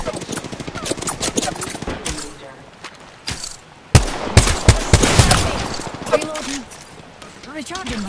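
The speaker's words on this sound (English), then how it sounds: "The enemy is shooting at me." Rapid bursts of enemy gunfire in the Apex Legends shooter, loud and close, with automatic volleys and sharp single shots that crowd together at mid-clip, while a voice talks over parts of it.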